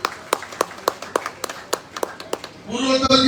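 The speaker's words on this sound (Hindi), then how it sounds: "जोरदार तालियां आनंद जी के लिए" Audience clapping at a stage event honouring an elder freedom fighter, starting as scattered individual claps and swelling into fuller applause near the end.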